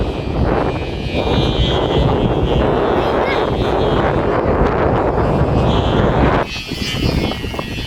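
Strong, steady wind roaring and buffeting the microphone throughout an outdoor Zumba session, loud and continuous, easing briefly near the end before gusting back.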